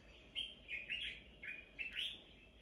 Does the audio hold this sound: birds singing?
yes